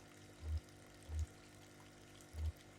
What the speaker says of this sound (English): It sounds like a pet store in the back where they have all the aquariums